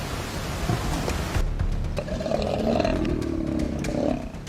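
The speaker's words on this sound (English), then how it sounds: "a fierce roar echoes across the plains" A male lion roars on the African savanna, a deep, rumbling, sustained call that swells and rolls across the open plains, heard fairly close over a dense wash of wind and outdoor noise.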